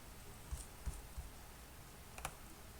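A few faint, quiet clicks of a computer mouse or keyboard tap out irregularly over low room noise, with no voices.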